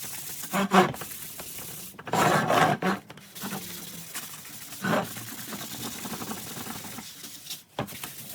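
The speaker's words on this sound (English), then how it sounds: "pour a little bit of water on and brush it in" Rough bristly scrubbing of a brush working water into teak outdoor furniture, several uneven strokes close by, alone without talk.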